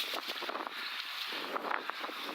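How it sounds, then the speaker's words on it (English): Steady wind rushes and buffets across the microphone at the water's edge while bass fishing, a constant broadband roar with faint splashes of water beneath it. "It's really windy."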